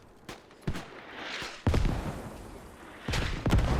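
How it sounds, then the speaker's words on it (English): Mortar impacts and gunfire in a Squad esports tournament match: several loud booming blasts and sharp shots arrive at irregular intervals, with rumbling low-end decay between hits and no talking. "Counter Mortars coming in from the Silver Horde"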